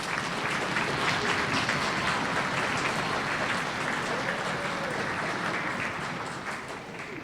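Sustained audience applause for families at an 8th grade school winter concert, a full room clapping steadily at even strength and tapering slightly near the end.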